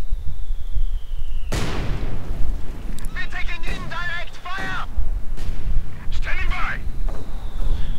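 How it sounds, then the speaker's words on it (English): Mortar rounds exploding in the World War II strategy game Company of Heroes 2: a sudden loud, deep blast followed by rolling booms and crackling impacts, with shouting voices and tonal battlefield sounds in between over a constant rumbling din. "Germany's moving in, mortar rounds going down."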